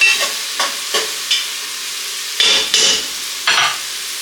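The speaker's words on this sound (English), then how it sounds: "Couple more minutes of sauteing the onions, and then we'll throw our shrimp and our asparagus in." Onions sautéing in a pan before shrimp and asparagus go in, a fairly close sizzle broken by a string of short spoon-scraping stirs at irregular intervals.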